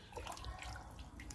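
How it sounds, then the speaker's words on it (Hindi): Water pours steadily from a can or jug onto the soil of a potted curry leaf (meethi neem) plant, a continuous close splashing trickle with no talk. "अब हम इसमें पानी दे देंगे, पानी अच्छे से देना है ताकि पूरा नीचे तक पानी पहुँच जाए"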